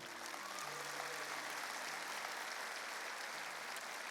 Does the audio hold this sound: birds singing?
no